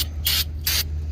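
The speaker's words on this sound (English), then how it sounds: "I'm gonna spray this one down the face of the rotor." Two short, sharp hissing bursts of aerosol brake cleaner sprayed onto the face of a brake rotor on a 2020 Equinox, close and fairly loud, separated by a brief pause over a low background hum.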